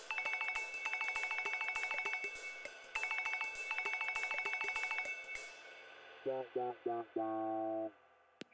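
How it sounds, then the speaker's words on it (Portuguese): A cartoon mobile phone cycles through ringtone choices: repeated bright electronic ringing bursts, then a few short rising tones and a sustained chime, loud and alone without talk. "A primeira coisa a fazer é escolher o toque do celular."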